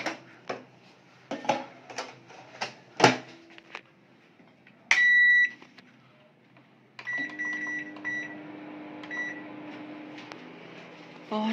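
A kitchen microwave oven heating leftover food, with a few clattering handling knocks and a short beep, then a steady humming drone with faint electronic tones running to the end at moderate volume.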